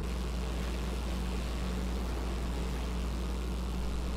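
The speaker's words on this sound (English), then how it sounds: "Doing a wheelie on a chopper." A chopper motorcycle engine in GTA V drones loudly and steadily during a wheelie, a low constant rumble with a broad noisy wash and no clear speech.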